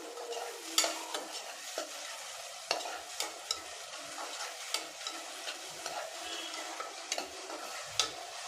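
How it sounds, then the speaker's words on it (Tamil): Chopped onions and salt sauté in a pan for a chicken curry, with a soft continuous sizzle broken by frequent scraping stirs and utensil taps at an irregular rhythm, close and moderately quiet, with no talking. "உப்பு சேர்த்து நல்லா வதக்கி விட்டுடலாம்"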